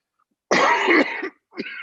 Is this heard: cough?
yes